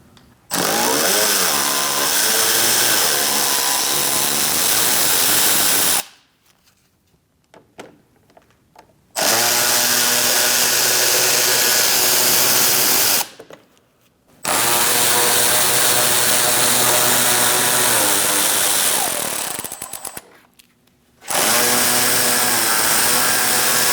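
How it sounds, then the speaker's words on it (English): A power tool with a 7mm socket drives out bolts in the wheel well of a 2016-2019 Chevrolet Cruze 1.4L, making three long, loud, close whirring bursts separated by short pauses. "We're going to use a 7mm socket, and we're going to take out these bolts."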